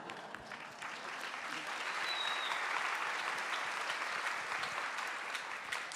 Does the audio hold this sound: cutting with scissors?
no